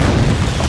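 A loud, close burst of gunfire booms heavily, filling the brief moment with low, rumbling blast noise.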